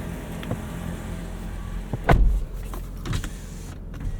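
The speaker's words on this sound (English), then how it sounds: "We have auto up-down windows on all 4 corners" Power windows on a 2026 Toyota RAV4 Limited whir up and down close by inside the cabin, a short motor hum ending in a firm thump, then a softer second movement over quiet engine idle.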